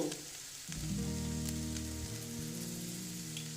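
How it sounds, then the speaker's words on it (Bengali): A mung dal snack with capsicum fries in a pan, a steady close sizzle that swells once more ingredients hit the hot oil, with no talk over it. "দেখো বন্ধুরা এটা এইরকম ভেজে নিচ্ছি"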